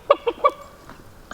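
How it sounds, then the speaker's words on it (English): Chickens on an Alaskan homestead give three quick, close clucks, then a couple of softer, fainter clucks after a short pause. "Call your chickens, Joe."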